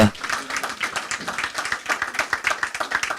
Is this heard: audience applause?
yes